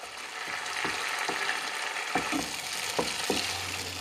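Chicken leg pieces in masala with onion-cashew paste are stirred in a pan, giving a steady close sizzle with soft scraping strokes and a few louder knocks of the spoon against the pan.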